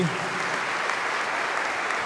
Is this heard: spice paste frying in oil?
no